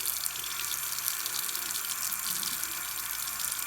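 Cold water runs steadily from a tap into a sink, a continuous bright hiss that stays even and close throughout, with no voices.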